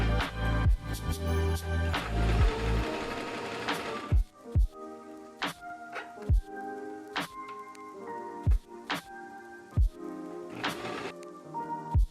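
A sewing machine stitches a tulle blouse sleeve, closing the hem and joining its ends: a busy whirring run at first, then short separate bursts of stitching with clunks between, fairly close and without talk.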